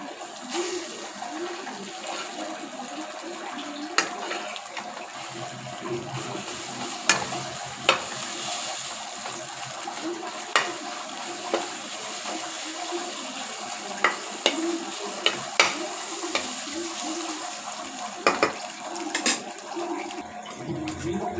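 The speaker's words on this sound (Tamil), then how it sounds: "நல்லா வதக்கி விட்டுக்கோங்க." Egg being stir-fried and sautéed in a pan gives a soft, continuous sizzle, broken by irregular scraping clicks of a spatula against the metal, close up and moderately quiet.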